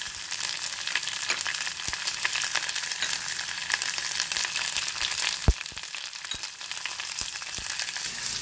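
Raisins and chironji dry fruits roast in a pan over a low flame, a steady bright sizzle broken by sharp clicks and scrapes of stirring, loudest around the middle.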